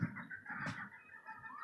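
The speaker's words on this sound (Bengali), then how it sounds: "এই রুমটার মধ্যে আমি এইভাবে মুরগি পালন করতেছি, দেশি মুরগির খামার।" Native (deshi) chickens kept in cages in a room on a five-storey rooftop farm, with continuous clucking and low calls close by, one brief louder squawk in the middle, and no talk.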